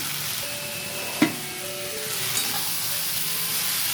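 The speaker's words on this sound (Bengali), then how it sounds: "এইভাবে ভালো করে নুনটাও মিশিয়ে নেবো সব একসাথে" Salt being stirred into a frying fish-head and vegetable dish in a pan, a steady sizzle throughout with one sharp utensil knock near the start and a softer scrape later.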